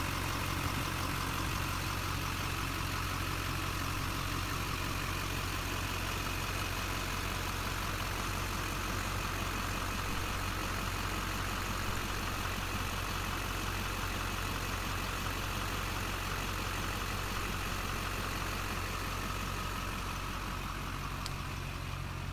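A Duramax diesel engine in a truck idles steadily with a deep, raw rumble from a straight-piped open exhaust, unbroken and constant throughout.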